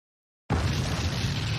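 An animated explosion in Moonlit Fantasy bursts in abruptly after a moment of silence, then holds as a loud, dense, rumbling roar with no one speaking.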